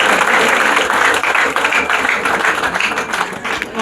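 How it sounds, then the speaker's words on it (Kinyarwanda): Wedding guests clap together in loud, dense applause, a full room of hands beating steadily for several seconds with slight swells in intensity. "muzamure ibiganza mukoma amashyi menshi dushimira Imana"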